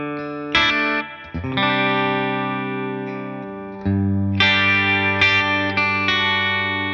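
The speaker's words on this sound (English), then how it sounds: "Let's add some reverb." Electric guitar chords ring out through a Bias amp with real pedals, drenched in reverb, each strum sustaining and decaying in long washes before the next chord hits.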